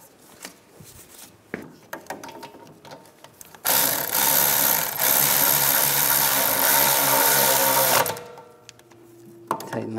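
Rear shock bolt being tightened on a 2015-2019 Lincoln MKC: a few scattered metallic clicks, then a loud, close, continuous mechanical rattle lasting about four seconds, followed by more sparse clicks.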